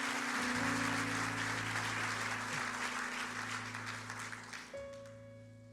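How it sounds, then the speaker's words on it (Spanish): Church congregation applauding loudly during a Spanish-language worship service, a dense, sustained wash of clapping over steady organ or keyboard tones, tapering somewhat toward the end. "Den un aplauso fuerte a Jesús"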